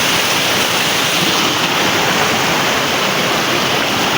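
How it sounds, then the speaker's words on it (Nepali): Floodwater rushes down a road in Melli bazar after a landslide, flowing like a stream; a loud, steady, dense roar of rushing water close by fills the whole moment without a break and with no voices. "पानीको फोर्स हेर्नुस् तपाईँ यहाँ यतिको छ"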